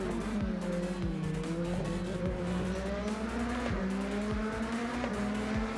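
BMW LMDH prototype race car in a racing simulator game, engine whining continuously with rising upshifts and gear changes at a steady pace, loud and close, with no talk.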